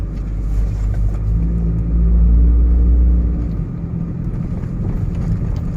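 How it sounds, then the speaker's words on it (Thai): A car engine hums steadily from inside the cabin while driving toward a school, a loud low rumble that swells slightly in the middle and then eases, with no talk. "ตอนนี้เรากำลังจะขับเข้าไปที่โรงเรียนลูกใช่ไหม"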